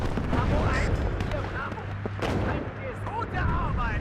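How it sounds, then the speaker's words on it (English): Artillery shells landing in the WARNO strategy game, repeated booming impacts and gunfire cracks over low rumble, mixed with in-game voices speaking throughout. "the artillery is landing in pretty good time"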